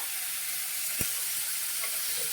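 Onion and tomato sizzling steadily in a pan of hot oil after salt goes in, a dense even hiss throughout with one brief clink of a utensil near the middle.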